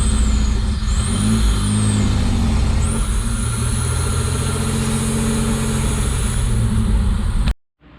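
A 1985 Pontiac Fiero's engine runs steadily and loud and close, a continuous mid-pitched idle rumble with a faint high whine, holding for about seven seconds before it cuts off abruptly.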